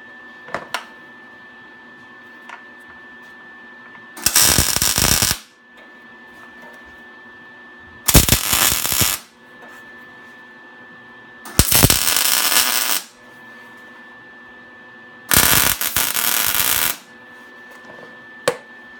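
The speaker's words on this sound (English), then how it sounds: "I'm going to put a tack weld in between each of the horseshoes" MIG tack welding on steel horseshoes for a scrap metal fruit bowl gives four short, loud crackling bursts about a second each, evenly spaced, with a faint steady electrical hum in between.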